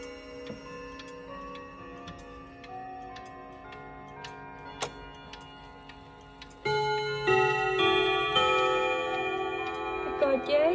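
Antique French wall clock with mirrored glass face, ten gongs and eleven hammers, ticking steadily before its Westminster chime melody rings out loud and resonant over the ticks.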